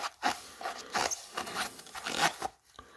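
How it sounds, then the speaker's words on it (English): Blue-tinted concrete candle vessel being rubbed down by hand, a dry rasping scrub in quick repeated strokes, close and fairly quiet with no talking. "So I like to rub them down, get any extra color off of them."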